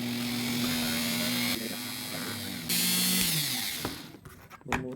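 A drill bores a hole in a hand pump part, its loud, steady whir shifting pitch as the load changes. The motor then winds down, followed by a few light clicks and knocks.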